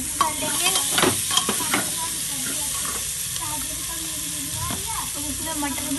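Potato and cauliflower pieces being stirred in a hot pan, with scraping spoon strokes over a steady sizzle and hiss, busier at first and then settling into continuous frying noise.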